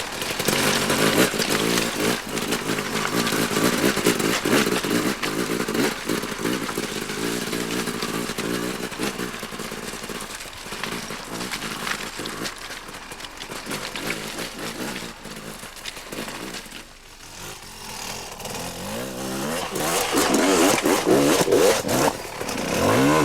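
An enduro motorcycle engine revs and accelerates smoothly, buzzing loudly close by, then easing off and rising again toward the end, alone with no talk.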